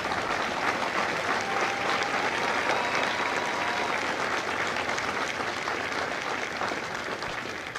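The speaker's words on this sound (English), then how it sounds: "please join me in a round of applause for the company staff of Company A" A crowd at a military recruit graduation ceremony at MCRD San Diego applauds the Company A staff, with broad, sustained clapping and faint cheers that stay even before easing slightly at the end.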